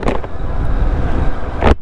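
A Kawasaki Vulcan S middleweight cruiser motorcycle rides through town, its engine giving a steady close-up rumble with a brief rise in revs at the end.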